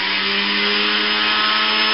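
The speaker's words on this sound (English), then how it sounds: "So into the juicer, down we go, last little bit." An electric juicer runs on fruit and vegetables, a steady, loud, whining motor drone with a grinding, buzzing edge that holds unbroken throughout, close and with no talk.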